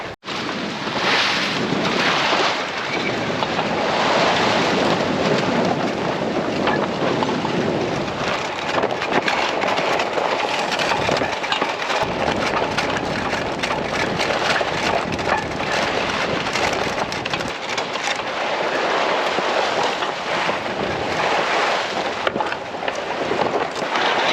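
Wind and waves roar around a solo sailboat at sea in gusty conditions, a dense, constant rush of spray and hull noise with no voices.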